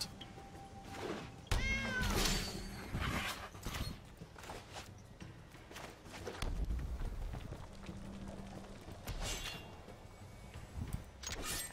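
A cat card in the MTG Arena video game gives out several close meows with a rising, wavering pitch. Soft hoof-like thumps and game effect sounds come in and out around them.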